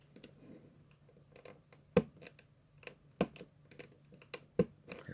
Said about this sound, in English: you just take a hobby knife and literally cut some plastic out like that